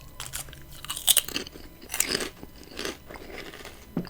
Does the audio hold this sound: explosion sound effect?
no